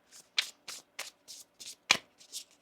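A deck of tarot cards being shuffled by hand, a series of about nine short crisp riffles and taps at a steady rhythm, close and fairly quiet, with no talking.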